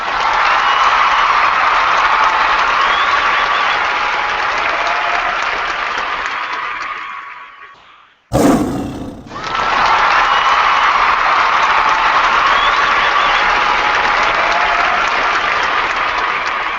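Canned applause sound effect triggered from a button plays as loud, dense clapping. It drops out abruptly for about a second partway through, then swells back up and continues steadily.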